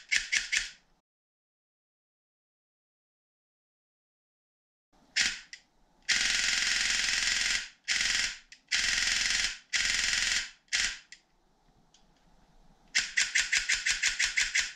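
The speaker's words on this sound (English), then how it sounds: "will this thing resist rapid semi-auto fire?" An airsoft gun fitted with a XORTECH MOSFET and a full tuning setup fires rapid semi-auto bursts. The loud mechanical rattles come in clusters separated by pauses, with a long silent gap near the start.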